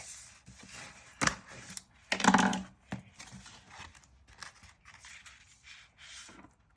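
Scissors cutting paper for a greeting card for grandparents, a few soft snips and paper rustles up close, with one louder crinkling burst midway, quiet overall.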